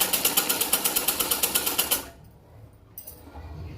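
A sewing machine stitches lace onto a blouse, running in a fast, steady burst of close rhythmic needle strikes for about two seconds before stopping abruptly, leaving quiet room tone with a faint shuffle.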